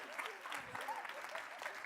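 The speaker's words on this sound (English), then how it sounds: "Give them a nice round of applause." Keynote audience applauds in a large hall, a steady wash of clapping held at a fairly even level for the whole two seconds, with faint voices mixed in.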